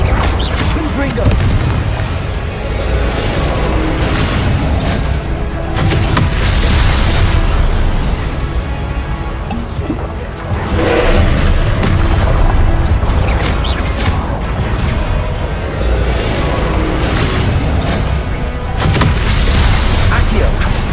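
Confringo blast spells explode repeatedly in Hogwarts Legacy combat, loud booming bursts stacking one after another over a dense game soundscape, with voices calling out spells throughout.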